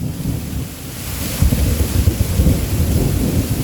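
Close thunder crashes in a rain-soaked Pittsburg, Kansas storm, starting as a quieter rain hiss and then breaking into a loud, sustained rumble midway that keeps rolling to the end.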